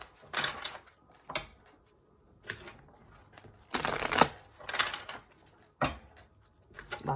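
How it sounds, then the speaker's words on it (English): Tarot cards are shuffled close up in repeated short bursts of crisp riffling and flapping, with quiet gaps between the bursts and no talking. "Last shuffle. Final message for Leo."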